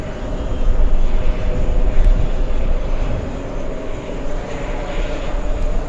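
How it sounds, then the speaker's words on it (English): A Delta Airlines jet arriving from Rome passes close and loud, its engines a dense, low rumble that swells early and eases slightly before holding steady. "Let's go for the Delta Airlines arrival"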